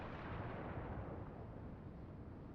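Heavy warship guns boom continuously in a naval battle in World of Warships, a dense, sustained low rumble of gunfire and explosions with no talk.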